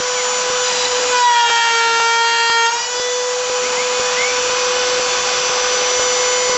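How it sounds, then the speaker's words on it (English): CNC router cutting quarter-inch plywood, a steady high-pitched whine of the spinning bit with a continuous grinding cut that holds level throughout at close range. "This is cutting 1/4 inch plywood with no problem"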